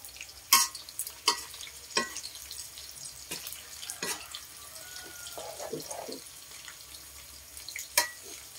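Fresh crickets frying in hot oil in a home kitchen, a steady low sizzle broken by several sharp clatters and scrapes of a utensil against the pan, with no one speaking.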